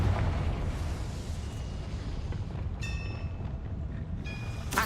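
A Confringo fire-blasting spell goes off in Hogwarts Legacy, a dense low rumbling burst that swells and lingers for several seconds with crackling debris, followed by brief bright magical chimes and a second flare near the end.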